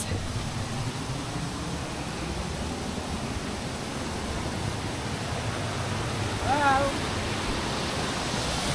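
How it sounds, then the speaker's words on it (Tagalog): A flowing stream near Tanay rushes steadily, a broad, continuous water noise heard close by, with a brief voice briefly rising over it. "Nakaninig ako ng batis."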